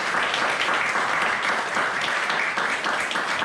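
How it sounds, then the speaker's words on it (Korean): A church congregation claps steadily and densely to welcome a pastor, a full sustained wash of many hands close and loud throughout, with no talk over it. "나오실 때 크게 박수 좀"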